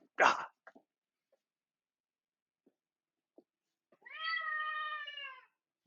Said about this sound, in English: Why is Max suddenly meowing?